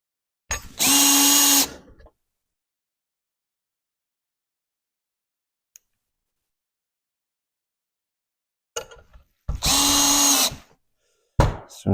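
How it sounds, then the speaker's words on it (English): Power drill driving screws into an antique Crakerjac wooden ladder stool: two short loud bursts of whirring separated by a long silence, a third just starting at the end, no talking. "Put a couple screws there."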